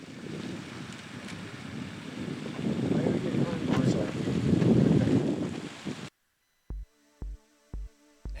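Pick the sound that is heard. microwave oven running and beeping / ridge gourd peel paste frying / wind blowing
wind blowing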